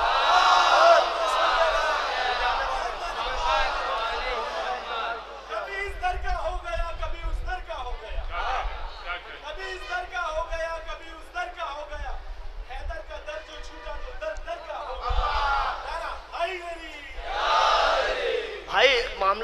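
Crowd at a religious poetry gathering celebrating Imam Ali loudly chanting slogans and blessings in unison, loud call-and-response shouts in repeated waves with a leading voice between them.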